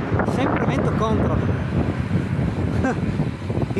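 Strong headwind buffets the microphone continuously while cycling on a riverside bike path in the Soca Valley, a loud, gusty roar with faint voices underneath.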